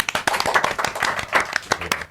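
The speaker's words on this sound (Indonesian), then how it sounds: "Tepuk tangan dulu" Audience clapping at a religious vocations talk, a dense burst of hand claps filling the whole moment, steady and fairly close, with no voices over it.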